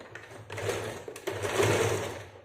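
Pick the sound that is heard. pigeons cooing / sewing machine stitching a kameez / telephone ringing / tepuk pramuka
sewing machine stitching a kameez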